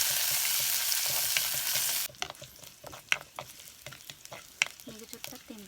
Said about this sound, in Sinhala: අපි මේකට කරපිංචි ටිකක්, රම්ප ටිකක් දාගමු.